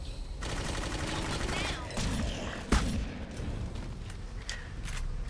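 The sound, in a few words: gunfire in the video game Clive Barker's Jericho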